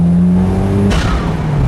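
Toyota MR2 with a modified aftermarket exhaust and swapped engine, loud and close, revving hard through a gear, with a sharp upshift midway before the engine pulls again under load.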